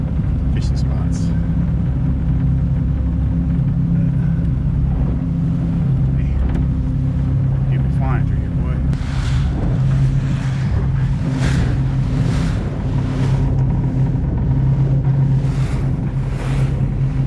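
A Tahoe Q5i boat motoring across a lake, its steady low engine drone and water rush continuous throughout, with wind buffeting the microphone and bursts of splashing in the second half.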